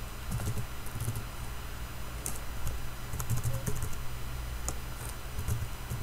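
Commands are typed on a computer keyboard, with quick irregular clusters of close, crisp key clicks and occasional heavier keystrokes over a quiet room hum, and no one speaking.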